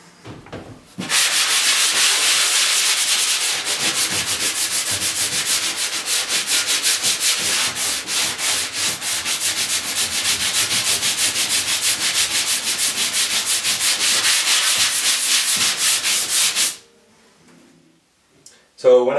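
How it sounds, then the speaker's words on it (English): Steady, continuous sanding of drywall joint compound on a wall, a loud broadband scratchy rasp running for about sixteen seconds before stopping abruptly. "So when I finished sanding"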